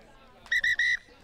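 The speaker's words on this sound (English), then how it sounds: "There's the whistle for half-time." A referee blows the half-time whistle at a rugby match between Perth Bayswater and Kalamunda, three sharp shrill blasts in quick succession over faint crowd background.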